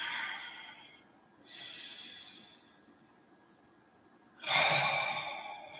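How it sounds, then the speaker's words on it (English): Slow, deep breaths during a calm guided meditation: three long, soft exhalations with pauses between, close and clear, the last one the loudest. "Everybody breathe."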